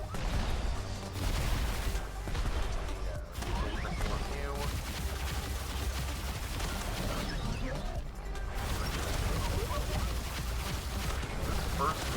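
Rapid gunfire in the Voidling Bound video game, dense continuous shooting and impacts layered with game sounds, with a person talking over it throughout.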